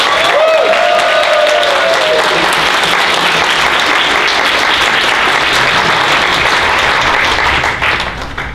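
Audience at the Ushicon 2017 anime convention opening ceremony applauding a guest, Wataru Yoshizumi, with loud, dense, sustained clapping from a large crowd that continues steadily throughout and only begins to thin at the very end.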